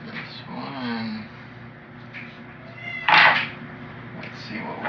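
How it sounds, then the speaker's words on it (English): A new pet cat named Miss Baker meows in a quiet room, one rising meow early, then a sharp loud cry near the middle, with faint background hum. "My cat, new cat, Miss Baker, the biscuit maker."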